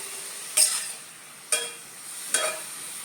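Grated carrots are roasted in ghee and stirred, with a soft, low sizzle under three distinct scraping strokes of a spoon against the pan, spaced about a second apart, close and without talk.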